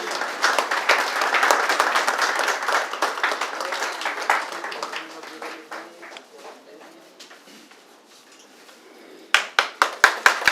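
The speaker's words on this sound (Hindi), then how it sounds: "जोरदार ताली हो जाए इनके लिए।" A hotel event audience claps loudly at first, and the applause gradually thins to scattered claps. A few sharp, close handclaps then burst out near the end, with faint talk underneath.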